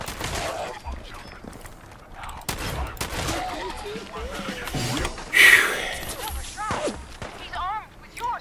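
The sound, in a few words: gunfire in the video game Fallout 4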